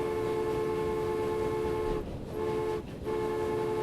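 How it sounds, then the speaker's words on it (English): A train in the Transport Fever video game rolls through a station, its loud, steady engine and rail drone dipping briefly twice before resuming, with no talk. "you're just as noisy as some of your other trains, aren't you?"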